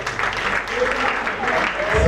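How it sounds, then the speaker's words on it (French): A church assembly of the Eglise du Réveil du Congo breaks into a sustained wash of applause and cheering voices for Makala, filling the space at a steady level with a low thump at the end. "on peut acclamer pour makala"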